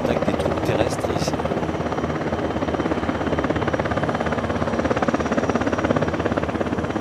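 A military helicopter flying at the Paris Air Show display, giving a loud continuous rotor thrum and engine buzz that stays steady throughout, with a French commentator talking over it.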